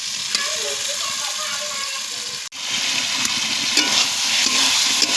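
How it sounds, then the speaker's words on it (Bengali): Mango chicken curry sizzles steadily as it is stir-fried over an open wood fire, with a brief cut midway and scraping stir strokes and crackle throughout, fairly loud and close. "ম্যাঙ্গো চিকেনটা কিন্তু এখন আমরা কষাচ্ছি ভালো মতো।"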